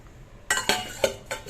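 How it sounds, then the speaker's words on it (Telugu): A lid is set on a vessel of fermenting urad dal dosa batter: four or five close, light metallic clinks and clatters in quick succession, with no talking. "ఇలా మూత పెట్టుకొని ఉంచుకోవడమే అండి"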